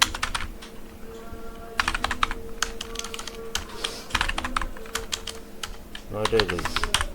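Bursts of computer keyboard typing into MS Word, close and crisp, come in quick clusters with brief pauses, partly under a speaking voice.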